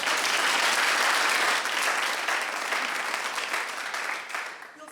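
An arts society audience applauds an award winner at a showcase, a loud, dense wash of many hands that holds strong, then gradually thins and fades away at the end.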